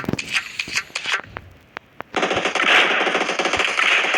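Rapid automatic gunfire from the mobile battle royale game PUBG Mobile, with sharp scattered shots at first, then a dense sustained burst of loud firing in the second half.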